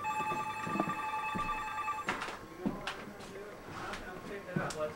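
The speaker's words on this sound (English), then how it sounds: "Get that phone. Let the answering machine pick it up." A telephone rings in a home, heard on an experimental sound-collage recording. A steady electronic ring sits under someone speaking, then cuts off midway, leaving room noise and a few clicks.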